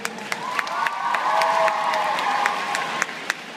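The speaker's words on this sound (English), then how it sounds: "give them a round of applause, ladies and gentlemen" Applause and cheering from the crowd at a Teen Wolf panel at London MCM Comic Con in 2013, a dense wash of clapping with rising shouts and whoops swelling in the middle before easing off.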